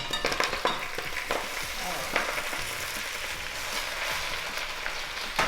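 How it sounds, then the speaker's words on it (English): Fresh spinach hits a hot pan with brown butter and garlic and sizzles steadily, a dense frying hiss with a few sharper crackles and light stirring, close and continuous with no talk. "I'm gonna throw in my spinach"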